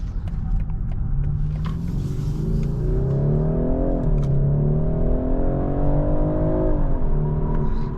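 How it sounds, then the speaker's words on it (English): A 2025 BMW 430i xDrive accelerates hard from inside the cabin, its engine note climbing steadily through two upshifts with a continuous loud drone and no talking. "For just to being a 430i, this acceleration is decent."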